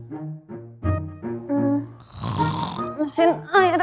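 Rasping, voiced snorts close by, coming in quick uneven bursts with a rougher, breathier stretch in the middle.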